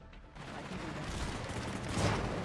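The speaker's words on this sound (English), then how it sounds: "Oh, there's already gunfire." Gunfire in the zombie survival game Cepheus Protocol crackles faintly in the distance, with a few soft bursts building toward a louder cluster near the end.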